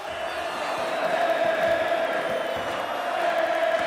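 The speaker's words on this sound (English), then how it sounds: "we can feel the whole platform rock with the rhythm of thousands of cheering fans" Thousands of football fans cheer in an Argentine stadium, heard from a concrete stand as a loud, sustained crowd roar with a droning chant-like tone and scattered shouts.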